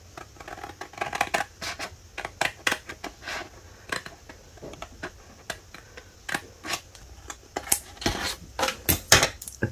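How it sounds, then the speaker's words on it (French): Scissors cutting paper for a folded paper box craft, a string of crisp, close snipping clicks in irregular bursts that grow denser and louder toward the end. "Et je coupe"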